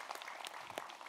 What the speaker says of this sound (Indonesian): Tepuk tangannya dong Bu Ibu.